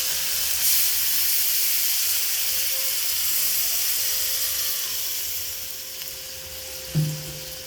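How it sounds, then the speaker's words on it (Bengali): A loud, steady hiss and sizzle as water is poured into frying spice paste in a hot pan for a fish curry, easing off gradually, with a brief clunk near the end. "এবার পরিমাণ মতো জল দিয়ে দেবো"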